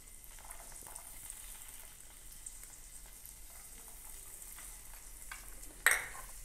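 Onion cooking in butter in a pan for spicy curd rice, a faint, even sizzle under light stirring, ending with a sharp metallic clink near the close.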